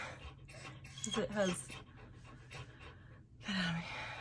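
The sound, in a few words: dogs panting and whimpering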